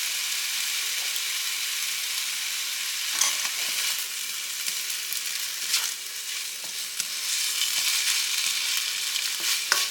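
Soy sauce hits a hot pan and sizzles in a steady, close frying hiss, with occasional stirring scrapes and small pops across ten seconds and no talk.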